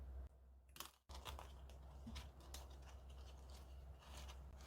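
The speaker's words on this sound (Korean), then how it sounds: "루즈링은 간단하게 가위로 자르시면 됩니다" Scissors cut through a 20-ring plastic loose-leaf binder ring, a brief crunchy snip near the one-second mark followed by quieter rubbing and handling, close and faint.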